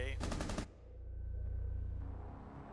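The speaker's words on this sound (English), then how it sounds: "Did you just shoot my corpse?" A short burst of rapid automatic gunfire in Rainbow Six Siege, loud and close for about half a second, then cut off into a low steady game hum with no talking.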